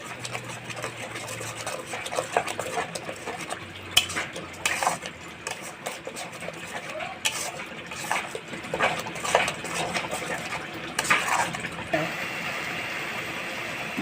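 Spice paste with green chili powder and turmeric being sautéed for a fish dish, with repeated spatula scrapes and clinks against the pan over a low steady sizzle, close and moderately loud throughout.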